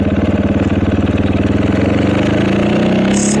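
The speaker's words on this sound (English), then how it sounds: "pull the clutch in, downshift to second. Pull the clutch in, downshift to first." A motorcycle engine heard up close while the rider pulls the clutch and downshifts toward a stop sign, with a steady throbbing idle that shifts pitch slightly as gears change and revs settle.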